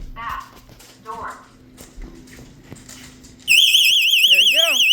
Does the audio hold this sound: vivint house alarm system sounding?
yes